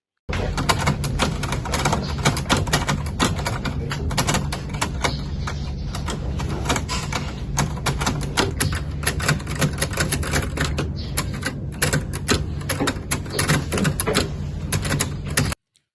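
Rapid, loud typewriter clatter as the Indonesian proclamation text is typed, a dense run of keystrikes with occasional pauses, carrying on alone for about fifteen seconds before stopping abruptly.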